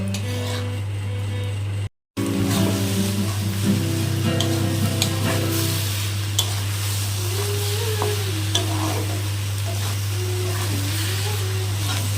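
Potato and cauliflower fry together in a pan, a loud, continuous sizzle with occasional clinks of the spatula as they are stirred, while a voice talks over the cooking.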